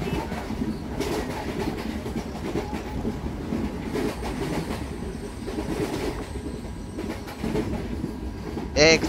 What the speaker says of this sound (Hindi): एक्सप्रेस ट्रेन नहीं है, पैसेंजर ट्रेन है।